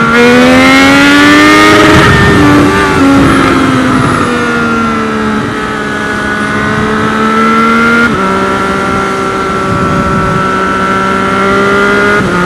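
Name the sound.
car engine revving up to the rev limiter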